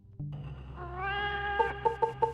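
A cat meows in the 1999 World War II shooter Mortyr 2093-1944: one drawn-out, rising meow followed by several short, clipped mews in quick succession, fairly close and clear with no talking over it.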